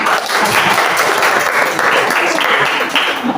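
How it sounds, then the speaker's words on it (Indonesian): An audience at a school sociology drama about drug prevention gives loud, lively applause that stays dense and steady the whole time. The clapping is close and fills the space, with no pauses, and faint voices mix in underneath. "Saya lagi berikan aplaus yang meriah."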